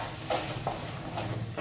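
Spiced masala for chole fries in hot oil while being stirred, giving a steady close sizzle broken by several soft scraping strokes of the spoon in the pan.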